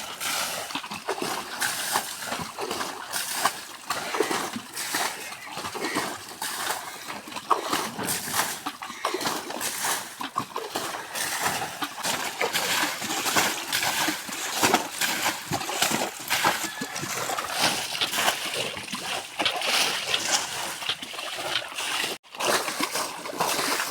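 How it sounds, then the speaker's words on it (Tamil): Water is bailed out of a small pond to catch snakehead fish, producing a continuous, close, irregular churn of splashing and sloshing that runs without pause, with a brief dip near the end. "எல்லாமே தண்ணியை இறச்சிட்டு மீன் பிடிப்போம்."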